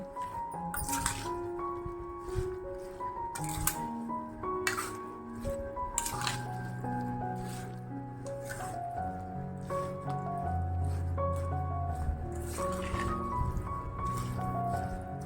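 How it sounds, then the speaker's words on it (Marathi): Lemon and chili pickle being mixed thoroughly with tempering, repeated moist squelching and light scraping strokes at an uneven pace, close and quiet throughout. "व्यवस्थित कालवून घ्यायची फोडणी"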